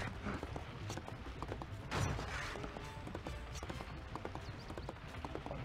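Horse hooves gallop in rapid, irregular clip-clop beats in Prince of Persia The Two Thrones, set against game noise with a louder crash-like burst partway through.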